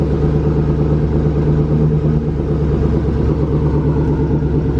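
An engine rumbles loudly and steadily up close in a 1987 Chevy C10 pickup running again after sitting abandoned for more than ten years, a deep continuous drone with no talk.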